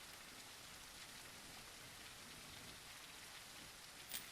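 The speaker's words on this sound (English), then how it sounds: "Is it raining? Sounds like it's raining." Steady rain falls in the video game Pub Sim, a quiet, even hiss of drops that holds constant with no voices over it.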